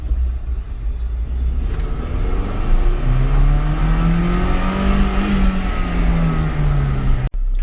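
Car on an E85 tune revving hard and accelerating in first gear, a loud close engine roar with the pitch climbing steadily then easing, ending in an abrupt cut.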